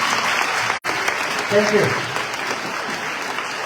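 A class of children clapping to welcome a visiting teacher at a school Freedom Day programme on the Cape Flats, steady crowded applause throughout with a brief voice speaking over it.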